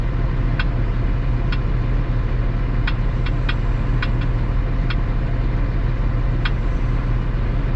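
A tractor engine drones steadily in the cab while soybeans are planted on a new farm field, a continuous low rumble with a few faint clicks over it and no voices.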